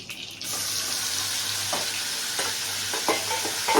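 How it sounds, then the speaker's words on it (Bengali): Marinated prawns hit hot oil in a frying pan for chingri biryani, giving a steady loud sizzle with a few short scraping, stirring knocks and no voice. "ম্যারিনেট করা দেখুন চিংড়ি মাছ এখানে সব দিয়ে দিচ্ছি আমি"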